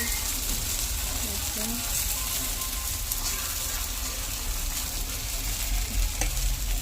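Batter fries in oil on a griddle pan, a dense, steady, close sizzle and crackle running unbroken throughout.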